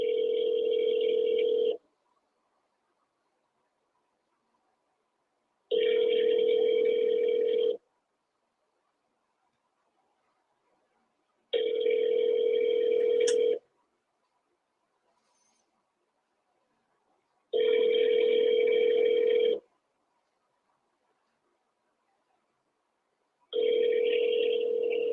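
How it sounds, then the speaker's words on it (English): Telephone ringing in a regular pattern, five evenly spaced bursts of about two seconds each separated by silence, clear and close with no talking. "can you hear the phone ringing"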